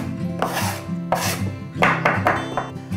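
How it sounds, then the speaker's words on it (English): A metal dough cutter scraping flour off a wooden pastry board, several distinct rasping strokes in uneven rhythm, close and crisp with no talk over them. "It's a dough cutter or a shaper, but also fantastic for, you know, taking all the flour that sticks to your board"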